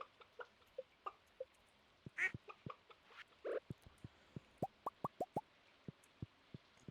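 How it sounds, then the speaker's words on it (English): Ducks and chickens on a Stardew Valley farm give a run of short, clipped calls: scattered plops and clucks early, then a quick series of evenly spaced quacks near the end, clear and close with no talk. "Duck isn't very happy."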